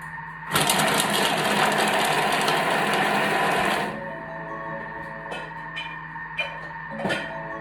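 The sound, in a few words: Thermomix chopping garlic and onions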